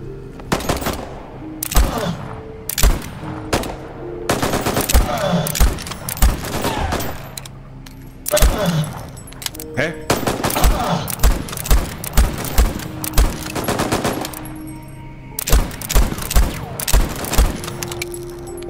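Repeated pistol shots in the video game Voidtrain, loud and close, fired in irregular clusters across the stretch with thuds between them and no talking over it.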